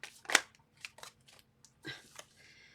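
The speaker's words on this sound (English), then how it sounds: "Two more shuffles." Tarot cards shuffled by hand during a reading, heard as a few quick papery riffles and soft slaps spread across the moment, fairly faint and close, with no talk over them.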